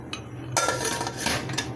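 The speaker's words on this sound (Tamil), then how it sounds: "இப்போ குக்கர் மூடி போட்டு" A pressure cooker lid is set on and fitted in a home kitchen during cooking, giving a few close metallic clatters and scrapes over about two seconds.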